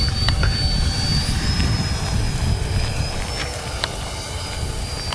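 FMS Rafale 64mm EDF radio-controlled jet flying overhead outdoors, a steady high-pitched whine over a constant low rumble, loud and continuous throughout with no talk.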